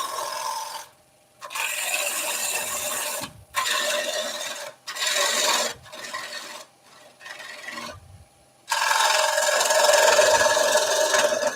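A gouge riding its bevel across a wooden platter spinning on a wood lathe, several rasping cutting passes of a second or two each separated by brief silences, ending in a longer sustained scraping cut.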